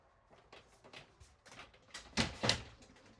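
A closet door in a 2026 Montana 3532SP fifth-wheel RV slides and clicks open in a few quick bursts of rubbing and knocking, with the loudest sounds near the end, fairly close.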